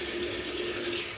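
A tap runs warm water into a sink for a shave, a steady close hiss of flowing water with no voices.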